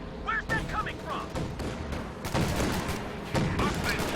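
Flak panzer anti-aircraft cannon firing in a real-time strategy battle, dense overlapping gunfire bursts and thuds with chirping game effects, loud and continuous throughout.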